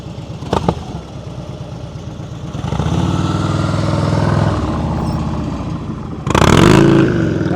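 A motorcycle engine during slow-speed riding practice in a Chicago lot, a low steady rumble that rises in level partway through, with a sharp rev and clatter near the end.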